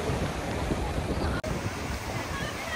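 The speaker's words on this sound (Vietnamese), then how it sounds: "Anh em có thể thấy là một bãi biển đầy nắng và gió." Wind and waves on a sunny beach in Japan make a dense, steady roar of surf and gusty wind buffeting the microphone, loud throughout with a brief dropout midway.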